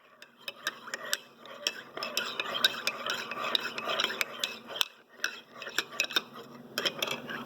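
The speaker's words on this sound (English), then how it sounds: "So get your spoon, start mixing." A spoon clinks rapidly and repeatedly against the sides of a glass while stirring chocolate milk, a close, busy rhythm of light metallic taps with a brief pause midway and no talking.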